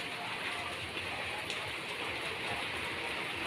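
Heavy rain pours down in a flood-hit area, a dense, constant hiss of rainfall at an even loudness with no voices.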